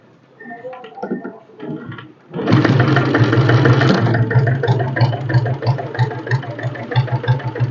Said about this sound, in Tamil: ஸோ அப்படியே கிக் ஸ்டார்ட் பண்ணி காட்டுறேன்.